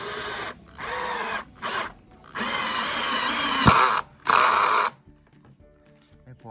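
A Total TIDLI20031 cordless impact drill drives a screw in loud, close bursts of whirring and hammering, several starts and stops, then falls quiet at the end.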